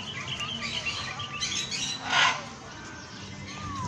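Birds chirp and squawk in an outdoor bird park, with scattered calls of varied pitch over a busy background hum and one louder burst midway.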